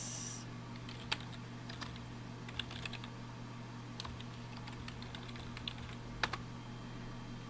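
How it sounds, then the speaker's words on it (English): Sparse, soft keystrokes on a computer keyboard while entering an email address, scattered clicks over a steady low hum. "I'm gonna type my email address."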